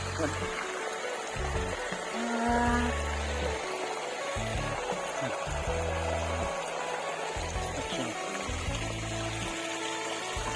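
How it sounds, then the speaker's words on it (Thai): Water runs and trickles steadily through a field on a rainy night at the start of the rainy season, a continuous close flow with low thumping handling noise and people talking over it. "น้ำไหลปลาขึ้นฝนตกน้ำไหลปลาขึ้นครับ"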